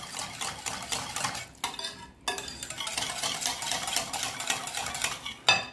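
Apple cake batter being mixed in a bowl with vanilla and grated lemon zest, a continuous close, rhythmic whisking and scraping that pauses briefly and ends with a clink.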